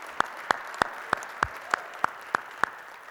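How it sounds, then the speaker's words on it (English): Audience at an Ohio Statehouse meeting giving steady, evenly spaced claps, about nine sharp beats over a few seconds against a quiet room hum, with no talking. "let's applaud that"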